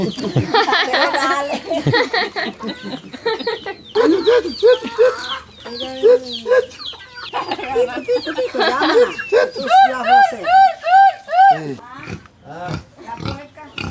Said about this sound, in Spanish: Yo vine desde Canadá solo para conocer las gallinas.